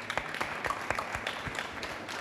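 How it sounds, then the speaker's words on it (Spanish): Brief scattered applause from a small group, light and somewhat distant clapping lasting a couple of seconds. "Yo creo que eso merece un aplauso."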